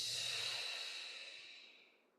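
Deep cleansing breath during a yoga session, heard as a long, airy open-mouth exhale that starts fairly close and fades steadily over about two seconds, with no talking.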